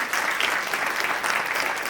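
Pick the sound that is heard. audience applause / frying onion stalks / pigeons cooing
audience applause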